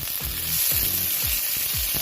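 Whole cumin seeds sizzle in a little oil in a frying pan, a loud close hiss with a few soft stirring scrapes and no voices.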